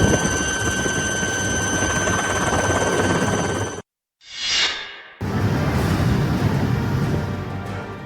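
Army Cheetah helicopters flying a flood rescue operation give a loud, steady rotor and engine roar that cuts out briefly, a rushing whoosh passes, then the heavy drone returns.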